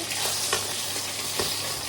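Fish sizzles steadily in hot oil in a pan, a dense, close crackle with a couple of soft knocks or turns along the way.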